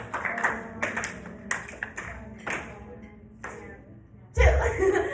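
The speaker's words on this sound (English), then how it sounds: "I'll clap, but I'm not going to count" A teacher claps a steady rhythm for an eighth-grade class, sharp, evenly spaced hand claps ringing close in a room, with brief voices and a louder burst of sound near the end.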